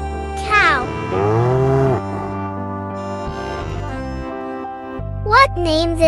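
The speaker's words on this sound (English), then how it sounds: "Cow." A cow moos in a long, loud bellow near the start, followed by quieter bleats and animal calls over a steady music bed.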